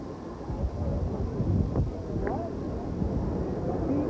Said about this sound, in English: there is a jet coming in on the south to north approach